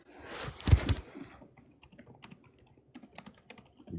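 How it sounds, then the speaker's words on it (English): Computer keyboard typing for a college essay, a loud burst of keystrokes up front followed by lighter, scattered clicks trailing off, close-miked with no talk. "I'm actually typing up an essay for my college project."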